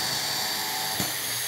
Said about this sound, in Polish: Za pomocą naszego wiertła nawiercamy sobie otwory.